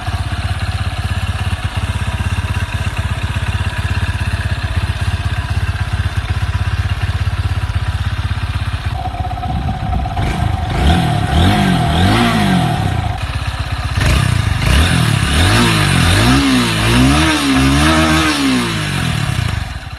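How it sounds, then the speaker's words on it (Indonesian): Exhaust note of a Honda CB 190 SS motorcycle, loud and close, idling steadily before several sharp revs that rise and fall in pitch, with no talking. "Langsung aja kita dengar suara dari knalpot CB 190 SS."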